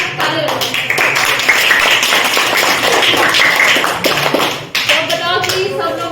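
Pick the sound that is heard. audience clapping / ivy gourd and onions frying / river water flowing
audience clapping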